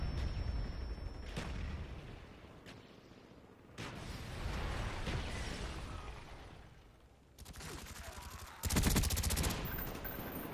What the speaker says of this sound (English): How many are they shooting? It seems like thousands.